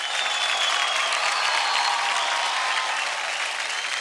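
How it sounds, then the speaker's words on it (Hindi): Studio audience on the Dance India Dance stage breaking into loud, sustained applause, dense clapping filling the room evenly throughout without speech. "तो जोरदार तालियां हो जाए"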